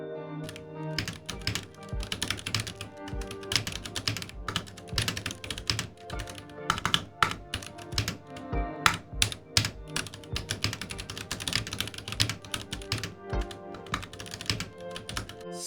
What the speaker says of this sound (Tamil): ஃபைனலி இந்த கீபோர்டு எப்படி சவுண்ட் பண்ணுதுன்றதை நம்ம பார்ப்போம்.